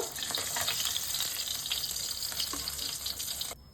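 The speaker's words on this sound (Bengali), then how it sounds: "এই তেলেতেই বাকি কই মাছগুলোকে ভেজে নেব" Koi fish fry in hot oil with a continuous bright, watery sizzle and crackle, close and fairly loud, cutting off abruptly just before the end.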